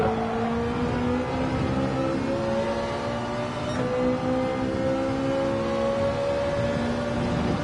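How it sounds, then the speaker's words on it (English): Simulated GT4 race car engine in a racing video game, a steady loud drone with rising and falling engine tones throughout, heard alone without talk. "I can hear Matt Psycho's engine."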